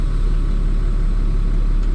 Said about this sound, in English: we're hopping in the international truck and we are heading down